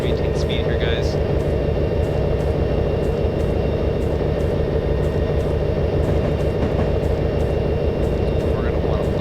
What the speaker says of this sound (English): increase the throttle just a tad bit so the engine maintains speed